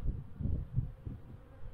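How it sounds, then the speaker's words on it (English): Honeybees flying around spring hives in a beeyard, a low droning buzz close by that swells and fades as insects pass near, with no talking. "I probably shouldn't be walking around my bees like this without a veil on, because they're flying pretty good"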